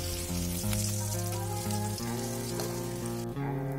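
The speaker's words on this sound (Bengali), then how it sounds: "আলুটা ফ্রাই হয়ে গেছে, এবার আমি তুলে নিচ্ছি।" Potatoes fry in hot oil with a steady, close sizzle and crackle that holds without pause, while a loud melodic tune plays over it.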